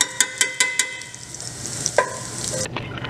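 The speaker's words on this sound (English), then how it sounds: "So now we're gonna add the onions and the jalapenos with the same oil from the bacon." Onions and jalapenos go into hot bacon fat, with a steady close sizzle of frying and a few sharp clacks of a utensil against the pan at the start, then stirring noises.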